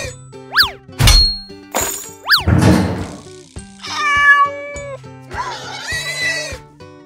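A cartoon cat meows from inside a cage in a forest, its calls mixed with bouncy boing effects and other bleating cartoon animal voices, loud and close with a playful musical backing.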